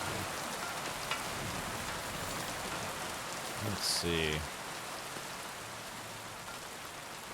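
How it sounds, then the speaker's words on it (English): Steady rainfall pours down throughout a Kingdom Come Deliverance 2 game scene, an even hiss with a brief burst of louder sound near the middle and a short spoken remark over it. "No reason to go out in the rain if I don't have to."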